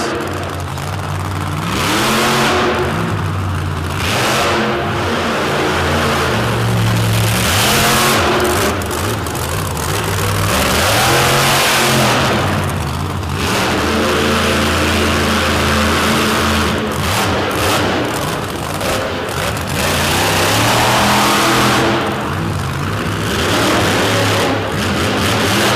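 Maximus monster truck roaring through a freestyle run at a Madison destruction show, its heavy engine revving hard in repeated surges and rising bursts, loud and close throughout.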